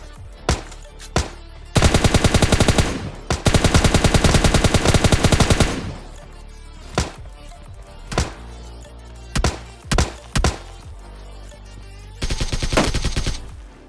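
In the mobile game PUBG Mobile Lite, M416 and AKM rifles fire in several sustained automatic bursts mixed with short single shots and brief pauses, loud and close.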